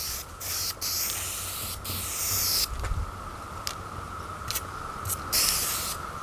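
Metal rails being spray-painted: repeated short bursts of aerosol hiss, each lasting a second or so, with pauses between them, close and fairly loud.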